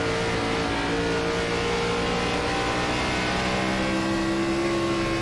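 Race cars accelerating out of a corner at Rockingham in iRacing, a continuous loud engine drone with rising revs from several cars together, steady and close.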